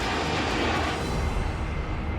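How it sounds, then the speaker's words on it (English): Military jets, F-15 Eagle fighters and A-10 Warthog ground attack planes, produce a loud, broad engine roar that surges briefly and then holds steady, with no talk. "F-15 Eagle fighters and A-10 Warthog ground attack planes"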